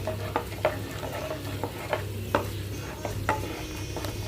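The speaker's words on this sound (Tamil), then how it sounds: "ஒயிட் கலரில் மாறும் பச்சை மிளகா. அந்த அளவுக்கு நல்லா ஃப்ரை பண்ணிக்கணும்" Green chillies frying in oil in a pan, a continuous sizzle broken by regular scraping strokes of a stirring spoon about every half second, close-up with a low hum underneath and no speech.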